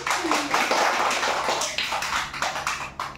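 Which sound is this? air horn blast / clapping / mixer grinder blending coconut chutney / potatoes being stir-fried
clapping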